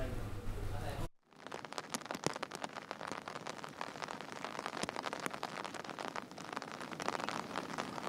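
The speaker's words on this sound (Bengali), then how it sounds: "দেখতে পাচ্ছি এখনো বৃষ্টি হচ্ছে" Steady heavy rain on Sylhet's Companyganj road beside a canal during overnight flooding, a dense hiss of drops hitting surfaces, constant and close after a brief cut at the start.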